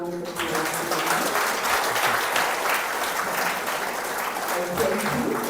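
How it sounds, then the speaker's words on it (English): Audience at a Q&A event gives Brother Charlie a big round of applause: sustained, steady clapping from a room of people, fairly even throughout with a faint voice at the very start. "big round of applause"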